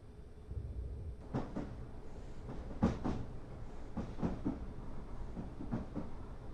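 Train rolling on the St Albans Abbey branch line in Train Simulator 2017, with faint rhythmic clicks and clanks of wheels over rail joints against a low steady rumble as it slows.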